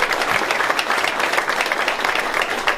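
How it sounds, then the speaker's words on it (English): Applause from an audience at the Port of Rochester, thick and continuous clapping from many hands, close and loud, holding steady without a break. "Let's give them a big round of applause."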